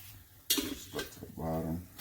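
Chicken wings dropped into a Ninja Foodi basket, giving a clattering thud and a few lighter knocks as more are added, close by.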